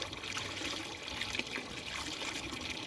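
A pet dog laps from a dish of drinkable tap water outdoors, giving a close, steady wet splashing and trickling sound that runs continuously throughout.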